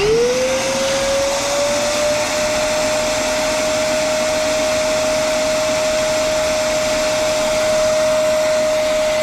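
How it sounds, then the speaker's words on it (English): A wet vacuum pulls a clog out of an air conditioner's condensate drain line, giving a steady, loud motor drone with a whine that rises over the first two seconds and then holds its pitch. "I feel it pulling now."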